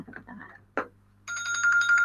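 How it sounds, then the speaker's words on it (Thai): A telephone ringing in a classroom during a math lesson, a steady electronic ring that begins after a short stretch of speech and a bump, then holds loud and continuous to the end. "อ๋อ โทรศัพท์"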